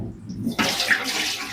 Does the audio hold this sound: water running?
yes